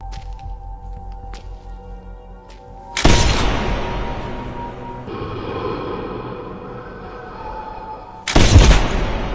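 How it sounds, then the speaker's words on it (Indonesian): Gunshots in a film scene, as a man is shot several times and falls; two loud, sharp bursts of gunfire stand out over a busy movie soundtrack, the second one near the end. "tubuhnya kembali terhempas ke tanah setelah mendapatkan beberapa tembakan yang dilepaskan oleh Do Guo itu"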